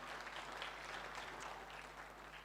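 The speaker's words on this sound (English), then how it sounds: "let's give her another round of applause" Applause from an audience at a student laptop giveaway event, a steady, fairly faint wash of clapping sustained throughout with a low hum underneath.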